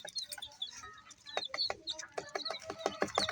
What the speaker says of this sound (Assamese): চাওক আপোনালোকে চাইছে মুৰগিৰ পোৱালিখিনি কিমান ধুনিয়া